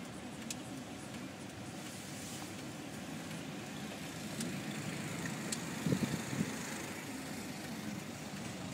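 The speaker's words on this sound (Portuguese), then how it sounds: "Caminhão ali." A truck on a snowy residential street in Medford, Massachusetts after a blizzard, its engine a steady low rumble at moderate distance that swells slightly toward the end.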